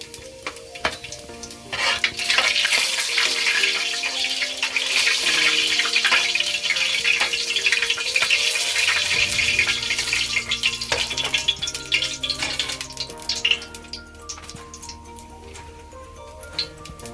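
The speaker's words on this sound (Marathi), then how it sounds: "तर आपलं तेल गरम झालेलं आहे. तर आपण पहिले याच्यामध्ये जिरे टाकणार आहोत." Cumin seeds sizzle in hot oil at the start of a dhaba-style methi malai paneer, a steady close crackling hiss with a brief stir clatter partway through, and no talking.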